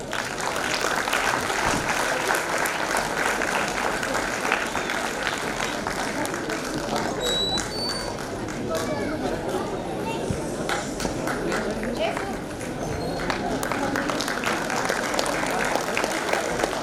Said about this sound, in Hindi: प्लीज तालियां बजाइए।